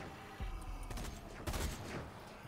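A submachine gun fires in short bursts in the Zombie Army shooter, its quick rattling volleys cutting through a low background din, fairly faint overall.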